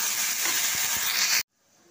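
Water poured into a hot pan of fried eggplant gives a loud, steady close hiss of steam that cuts off abruptly, leaving near silence.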